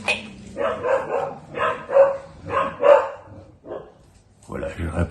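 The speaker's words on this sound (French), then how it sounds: "je réprimandais les toutous qui aboyaient" Small dogs bark repeatedly in a steady run of sharp yaps and a few whimpers, fairly close and loud, then go quiet before a final burst.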